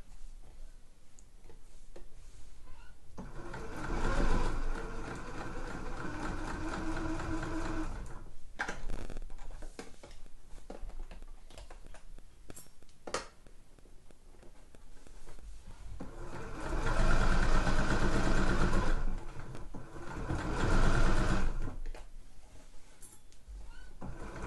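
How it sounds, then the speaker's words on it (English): A sewing machine stitches a fabric shoe bag in bursts, two long loud runs of motor whir separated by quieter pauses with small handling clicks as pins are pulled. "Taking pins out as I go, I don't want to sew over the top of my pins."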